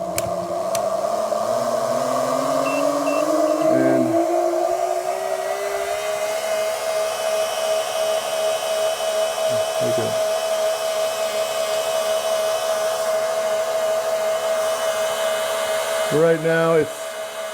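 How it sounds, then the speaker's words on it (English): A small stepper motor free-runs on a test bench at about 800 RPM, giving a steady, close whine whose pitch wavers and climbs in the opening seconds before settling. A few brief voices break in over it. "this little stepper motor is just, you hear it fluctuating because it's trying to maintain 800 RPMs"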